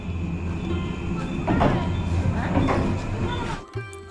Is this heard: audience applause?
no